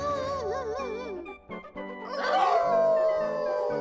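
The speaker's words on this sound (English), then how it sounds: "how about a good group howl?" Several animated dogs in the video game Inherit the Earth howl together in wavering, overlapping tones, with a short pause before the howling swells louder and fuller near the end.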